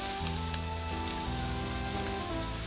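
Chicken tikka stuffing with chopped capsicum sizzles steadily in a pan as it is mixed, a dense continuous hiss, close and even, with no voices.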